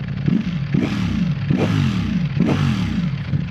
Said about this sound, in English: That is the bog standard exhaust straight out of the factory, and quite frankly I think that sounds freaking amazing.